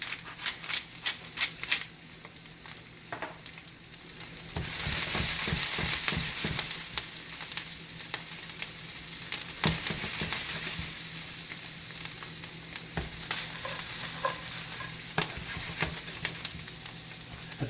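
Brussels sprouts sautéing with melting butter in a pan, a steady close sizzle broken by clicking and scraping stirs, with no voices.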